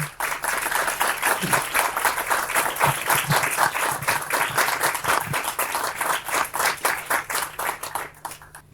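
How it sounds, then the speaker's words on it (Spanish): Audience applause at a theatre performance of a pirate-legend play: loud, sustained clapping from a crowd with distinct individual claps rippling through, continuing strongly for several seconds. "Ramón merece un aplauso inmenso por haberse atrevido con él"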